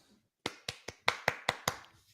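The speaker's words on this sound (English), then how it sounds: "Clap, clap, clap." Seven sharp, evenly spaced hand claps, close and fairly quiet, with no other sound between them and a brief hush before the first clap.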